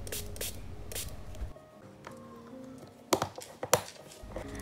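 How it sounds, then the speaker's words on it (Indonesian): A spray bottle mists liquid onto dried gouache paints in a quiet room, giving a couple of short, sharp hissing bursts over faint tapping and handling sounds. "akhirnya aku semprotin aja ke semua catnya"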